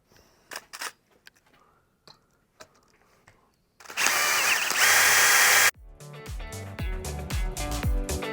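Power drill boring a hole through a guitar output jack plate with a 1/8 inch bit, a loud steady whine of a few seconds set among scattered handling clicks and knocks, then ringing metallic rattles.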